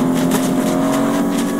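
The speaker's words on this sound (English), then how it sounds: "I got a car." A car engine driving in the Fortnite video game, a steady loud motor drone with a constant low hum and slight revving pulses throughout, no speech over it.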